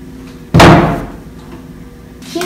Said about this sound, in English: You can open those doors.